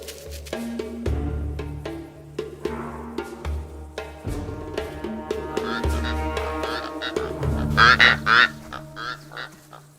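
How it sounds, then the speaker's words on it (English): Rüppell's korhaans call across open Namibian grassland in a run of harsh, repeated croaking notes, growing louder and busier toward the end, over a low background hum. "The springbok is spooked by the Rupel's koran birds."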